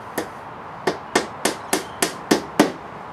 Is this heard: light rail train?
no